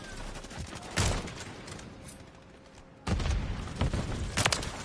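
Sniper rifle fire on the Shipment map in Modern Warfare 3, with loud sharp cracks and bursts of rapid gunfire. A quieter lull falls between the heavy volleys.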